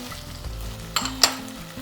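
Chopped capsicum, cut into large squares, and onion hit a hot frying pan with a steady close sizzle, with a couple of sharp utensil clicks and scrapes partway through.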